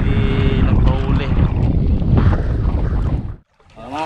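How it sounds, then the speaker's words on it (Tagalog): Strong wind buffeting the microphone with a steady roar, mixed with water and boat noise from a fishing boat at sea, then a brief drop before gusts return. "Saka malakas na rin yung hangin."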